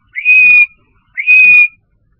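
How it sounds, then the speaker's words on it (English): Two clear, loud blasts of a referee-style whistle, each about half a second long with a short gap between them, close and alone. "blows a whistle."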